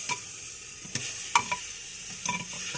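Tomato with turmeric, chili powder and sambar powder being stirred in a pan for hotel-style sambar, faint sizzling with a handful of soft spoon taps and scrapes spaced unevenly; no voices.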